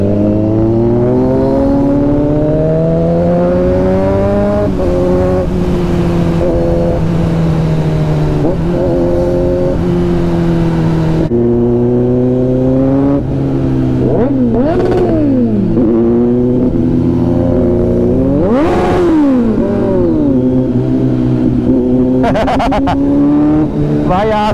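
Kawasaki Z900 motorcycle fitted with a loud aftermarket exhaust, revving repeatedly with rising and falling engine pitch, loud and close throughout, with people talking over it.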